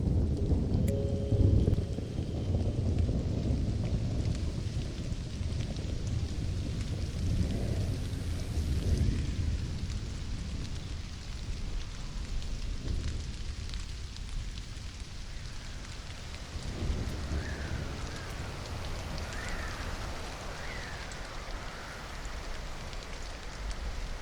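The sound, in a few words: thunderstorm with rain in Stranded: Alien Dawn video game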